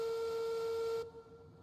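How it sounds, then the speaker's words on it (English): A steam locomotive in the video game Railroads Online blows its loud, steady whistle in one sustained tone, then cuts off abruptly, leaving a faint background hum. "He got a loud whistle."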